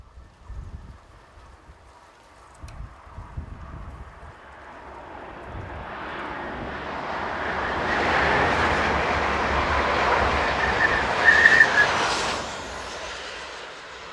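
A Class 130 Talgo 250 train set heading south near Almansa approaches from a quiet start, swelling into a loud broad rushing roar that peaks around the middle and stays strong as it passes. No one speaks.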